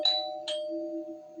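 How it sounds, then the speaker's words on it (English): A doorbell chimes twice in a two-tone ding-dong, the second strike following about half a second after the first, its tone ringing on and fading. Clear and close with no voices. "But late that night, Beck's doorbell rang twice"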